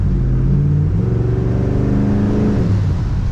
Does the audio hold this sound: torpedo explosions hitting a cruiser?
no